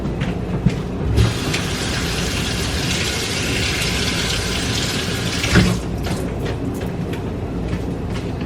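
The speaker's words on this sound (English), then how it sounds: "I'm gonna rinse it off." Running tap water rinsing a hard-to-peel food item, a steady broadband rush that swells for several seconds and then cuts off, with faint kitchen clatter around it.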